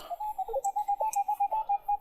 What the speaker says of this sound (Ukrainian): перший сигнальчик такий дзвонів в 90, дивіться, я вам покажу його